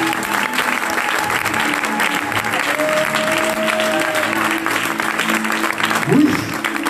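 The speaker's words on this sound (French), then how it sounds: "Acclame Jésus." A church congregation applauds in sustained, dense clapping to acclaim Jesus, filling the room continuously, with a voice and sustained musical tones carrying underneath.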